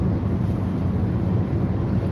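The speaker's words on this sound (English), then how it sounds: "It's a little windy today." Wind buffeting outdoors from a moving vehicle on a road trip, a steady low rumbling roar that stays loud and constant with no voices.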